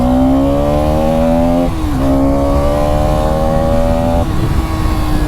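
A Bajaj Pulsar NS200 motorcycle accelerates hard in third gear, its engine note climbing steadily, dipping briefly twice, then rising again. The loud, close exhaust roar carries no talk.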